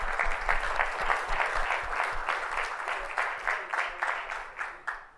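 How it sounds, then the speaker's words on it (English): Audience applause for keynote speakers at the close of a morning conference session, steady clapping from a room of people that thins into a few louder individual claps toward the end. "Can we give everyone, all the keynote speakers, a big round of applause?"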